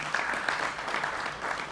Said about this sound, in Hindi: उनका भी अभिनंदन है जोरदार तालियों के साथ